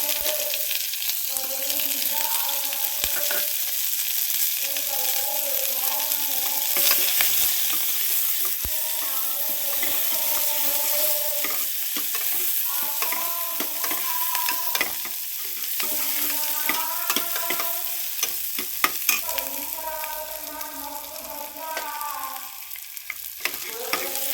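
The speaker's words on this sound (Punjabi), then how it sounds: "ਤੇਲ ਗਰਮ ਹੋ ਗਿਆ ਆਪਣਾ ਹੁਣ ਆਪਾਂ ਇਹਦੇ ਵਿੱਚ ਲਸਣ ਪਿਆਜ਼ ਪਾ" Garlic and onion frying in hot oil for a tadka for a potato and radish-pod sabzi, a loud, continuous sizzle with crackles and a spoon stirring, as a tonal hum runs in the background.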